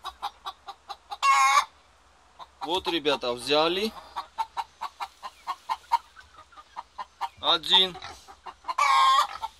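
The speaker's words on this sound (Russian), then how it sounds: "Петушок, замолчи, а то ты сейчас к Гоге" A rooster crows loudly several times between bursts of clucking, while someone talks close by.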